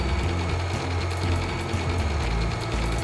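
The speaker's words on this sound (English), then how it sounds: "we spooled it up and got to sewing" Sewing machine running steadily while stitching tie fabric pieces with transparent thread, a close, continuous low mechanical hum and rattle with no pauses.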